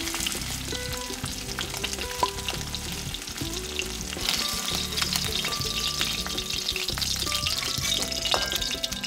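Tangra fish fry in mustard oil in a kadai, giving a dense, continuous crackling sizzle with occasional soft stirring clinks, close and steady throughout.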